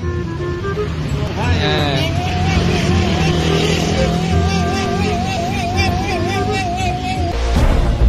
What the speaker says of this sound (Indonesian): seorang pria pengendara sepeda motor yang menggunakan knalpot bising